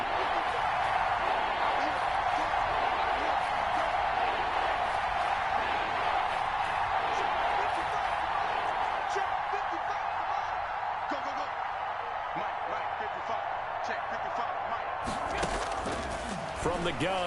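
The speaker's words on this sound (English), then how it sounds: "the crowd getting into it as we come up on a big 3rd down" Crowd noise in a PS4 football video game, a steady, loud stadium roar that swells as the crowd gets into a big third-down play and holds throughout, with a brief louder burst near the end.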